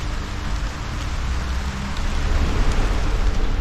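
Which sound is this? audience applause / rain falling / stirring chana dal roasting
rain falling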